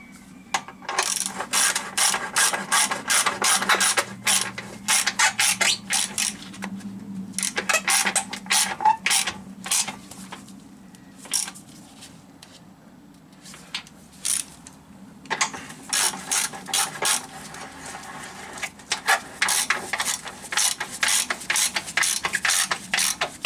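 A ratchet tightens bolts on the inlet manifold of a Rover P6 V8 engine, fast clicking runs in several close bursts with short pauses between them.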